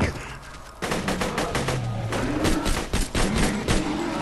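Rapid gunfire from the video game Borderlands 2 rattles through the whole stretch in dense, close bursts of shots with brief gaps, loud and without talk.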